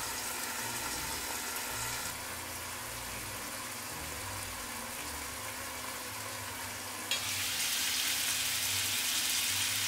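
Salmon steak with vegetables cooking in white wine in a covered pan, a steady soft sizzle and steaming hiss that grows brighter and louder near the end.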